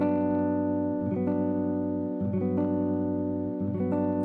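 A guitar chord with five strings strummed and the lowest muted rings out repeatedly, strummed about three times with bright sustained overtones, quiet and close with no talking.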